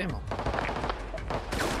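Police fire weapons in GTA 5 roleplay in a dense fusillade of rapid, loud game gunshots, bursts continuing throughout, while a player speaks briefly over it.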